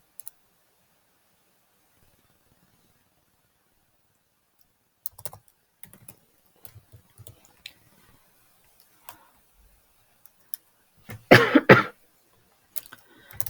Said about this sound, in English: I'm going to type it out so that I remember.